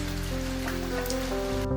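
Rain falls steadily outside a pottery studio in the mountains during the rainy season, a continuous close hiss of drops on surfaces with a faint low hum beneath.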